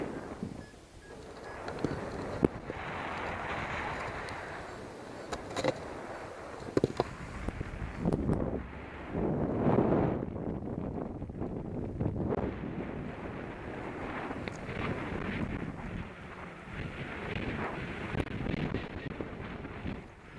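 Strong gusts of wind buffet the microphone outdoors near boats on the water, a rushing, uneven roar that swells and fades in waves, loud and close throughout with no talk.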